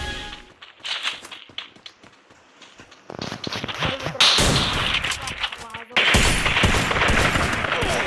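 Rapid gunfire bursts in the Free Fire mobile battle royale game, loud and dense, with a louder volley partway through and another at the end, mixed with game effects and faint voices.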